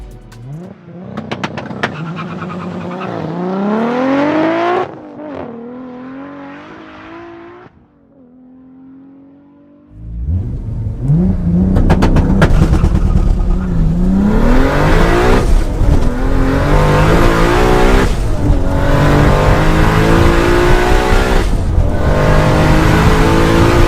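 A 900 hp Toyota Supra roars through a quarter-mile acceleration run, revving hard through repeated rising gear pulls with a brief lull at a shift before charging on loud and close.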